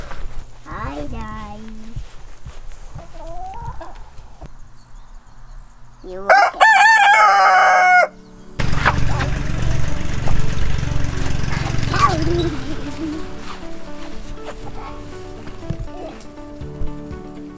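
Chickens on a walnut farm, a rooster crowing loudly nearby in a long bursting call amid scattered clucks, with background engine hum like a mower and a person speaking briefly.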